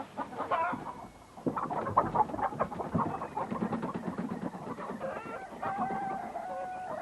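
Chickens cluck nearby in a busy stream of squawks, with a rooster crowing toward the end, alone with no talk.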